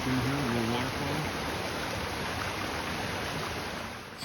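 A little mountain waterfall and stream near Lac Monroe pour in a constant broad rush, with a voice faintly speaking over it at the start before the water continues alone.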